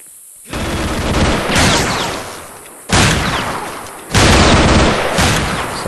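Gunfire and machine-gun bursts from the Vietnam War video game Vietcong, loud and dense, coming in three sustained volleys with brief gaps between them and no talking.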